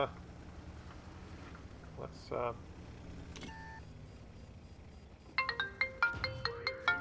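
A telephone rings out on a call to a community service hotline: a repeating electronic ringtone with a steady pulsing rhythm enters near the end, clear and close, after a stretch of speech.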